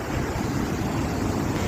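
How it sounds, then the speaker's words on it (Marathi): Godavari river water flows below a bridge near a weir at Panchavati, Nashik, making a steady, unbroken broadband rush like surf or wind, loud and continuous, with no voices. "हे खाली वाहणारं गोदावरी नदीचं पाणी"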